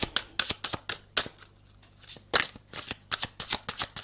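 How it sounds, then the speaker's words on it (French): Tarot cards shuffled and drawn by hand during a reading, a series of crisp riffling flicks and slaps in quick bursts with a brief quiet gap midway, close and fairly loud with no talking. "Attends, je retire une 3e carte parce que j'ai... Je sais pas, mais j'ai un doute là."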